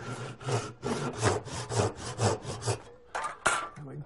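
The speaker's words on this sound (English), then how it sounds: "I'll saw a little cross on the end" Hand saw cutting a small cross into the end grain of a wooden blank, rhythmic back-and-forth rasping strokes close by, about eight steady strokes, then a pause and a few final strokes.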